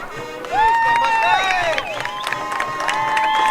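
Loud crowd cheering at a high school football game as the Loretto Mustangs take the field against Adamsville. Shouts and whistles rise sharply after a quiet start and stay steady throughout.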